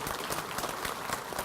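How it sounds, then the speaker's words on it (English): A roomful of people at a Rooster Booster Breakfast gathering clap in a brief, even burst of applause, dense and close, with no voices standing out. "Give her a round of applause this morning."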